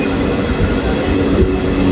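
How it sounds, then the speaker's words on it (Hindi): A Garib Rath Express rolls steadily past Pachora Junction near Jalgaon, a dense continuous rumble of wheels and carriages, loud and close, with a faint tonal squeal near the end. "पाचोरा जंक्शन को ट्रेन स्किप करने वाली है, तो उसका भी स्किप दिखा रहा हूँ मैं आपको"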